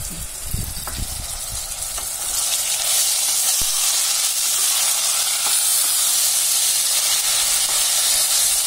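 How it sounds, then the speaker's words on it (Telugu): Ginger-garlic and coriander paste fries in a pan for mutton tahari, a loud steady sizzle and hiss that swells after a few stirring clatters at the start and then holds close and constant. "పచ్చివాసన పోయేంత వరకు ఫ్రై చేసుకోవాలి"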